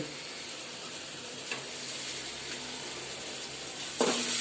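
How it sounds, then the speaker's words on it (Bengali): Dal (lentils) cooking in a pot produces a steady low simmering hiss, with a couple of faint stirring knocks and a sudden burst of running water or spattering near the end. "প্রথমে দেখাচ্ছি ডাল রান্না করা হচ্ছে।"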